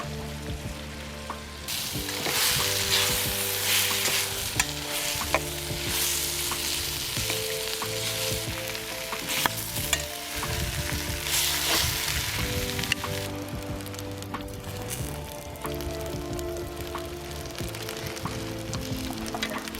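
Duck and meat brown in a stew pot with steady, crackling sizzling, loud and close, with occasional stirring knocks over a background musical tone, no talk.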